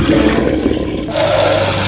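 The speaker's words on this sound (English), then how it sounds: "I'm just gonna dump out all the soap" Soapy water dumped out of a container used for cleaning nail tools, a loud, close rushing gush that steadies into a full pour, brief and unbroken.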